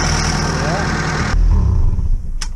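A Honda K24 engine mounted mid-ship in a Ford Festiva runs close by, a loud, steady idle that swells partway through and then settles, with people talking over it.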